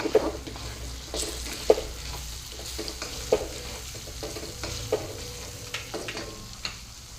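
Paneer bhurji sautéing in a pan, a low steady sizzle broken by regular sharp scrapes and taps of a spatula as it is stirred.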